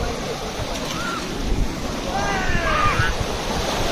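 Rushing floodwater of a flooded river in a rural setting, a steady broad roar and wash of water with wind buffeting the microphone and a few faint whistle-like tones.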